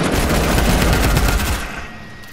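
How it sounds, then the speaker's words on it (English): Rapid automatic gunfire in the Fortnite video game, a loud, dense burst of close shots that lasts about a second and a half, then tails off quickly. "Who shot at me?"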